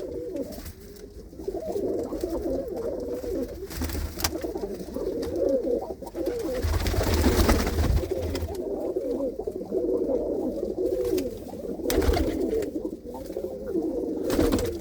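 Pigeons, including a female bird perched nearby, coo repeatedly in low, rolling bursts, close and fairly loud, with a few brief knocks and rustles and no talking.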